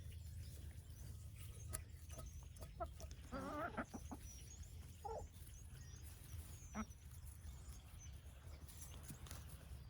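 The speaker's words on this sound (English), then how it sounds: "Red here is at the top of the pecking order. She's the boss. And our Lavender Orpington" Lavender Orpington chickens cluck softly in a backyard flock, a few short, faint murmuring calls scattered over a steady low hum.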